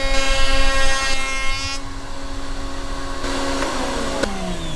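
An MLCS horizontal router table routing a wood panel: a loud, high whining motor that drops in pitch as the cut ends and the router spins down, close and alone.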